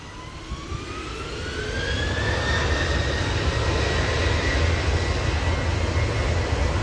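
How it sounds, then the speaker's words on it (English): A Brussels Airlines airliner arrives at Manchester Airport, its jet noise rising from moderate to a steady roar with a whining tone that climbs and then levels off, heard from some distance. "Brussels Airlines, just arriving."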